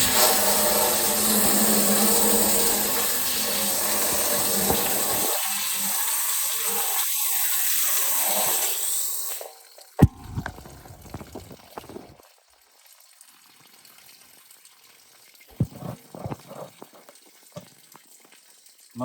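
Water from a hose sprays onto the rusty fuel tank of an F600 pickup, a loud rushing hiss for about nine seconds that cuts off abruptly, followed by faint drips and scattered knocks.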